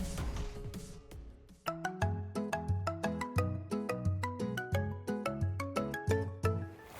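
A mobile phone ringtone plays a bright, repeating melodic tune for several seconds indoors, clear and fairly close, with no one speaking over it.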